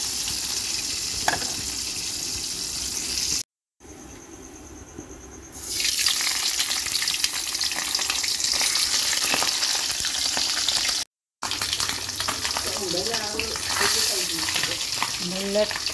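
Vegetables frying in hot oil for Indonesian sayur lodeh with koro beans and eggplant, a steady close sizzle with sharp pops and spattering, broken by two brief silent gaps.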